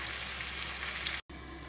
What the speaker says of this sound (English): Let it fry in low flame.